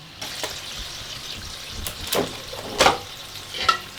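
Food stirred in a cooking pot, soft liquid swishing and a few brief scraping strokes, fairly close and quiet, with no talking.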